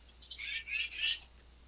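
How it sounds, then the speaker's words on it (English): A bird chirps in a few quick bright bursts, fairly faint against quiet background air, with no voices over it. "I heard a bird."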